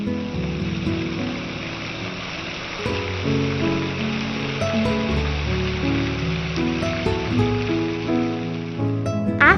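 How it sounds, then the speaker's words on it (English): Water falls gently from the top of a red cliff into the lower Emerald Pool, a steady broadband wash of splashing with no break. A tonal, music-like layer plays over it throughout. "The sound of the gently falling water from the top of the red cliff created a breathtaking ambience."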